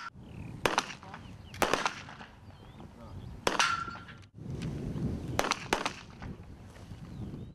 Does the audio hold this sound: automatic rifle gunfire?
yes